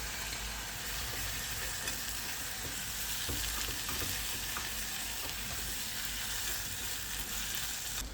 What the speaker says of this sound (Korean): 체리 식초 살짝 넣고 졸여준 다음